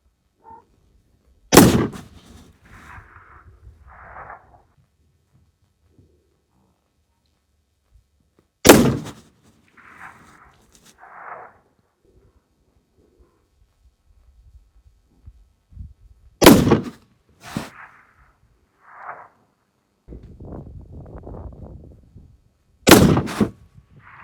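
Seekins PH3 rifle firing during a shooting competition: four loud, sharp shots spaced several seconds apart, each with a brief echoing tail, with faint background rustle between them.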